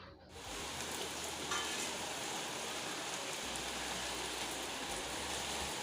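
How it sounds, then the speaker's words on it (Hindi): Evening rain falls steadily in India, a dense, even hiss of drops on surfaces that continues without break at moderate loudness. "तो हमारे यहाँ फिर से बारिश शुरू हो चुकी है।"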